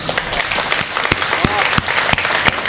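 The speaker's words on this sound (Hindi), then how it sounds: "एक बार तालियां बजा दीजिए।" Audience applause at a Hindi poetry recital, a steady dense patter of many hands clapping throughout, with a few louder individual claps standing out.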